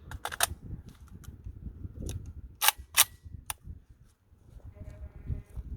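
A New Century Arms VSKA rifle fires several sharp, loud shots at irregular intervals, each a crisp crack with brief echo, amid outdoor background noise and light mechanical clatter.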